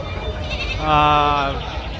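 A male goat at the Gudur sheep and goat market gives a single loud, quavering bleat close by, lasting about a second over background crowd murmur and voices.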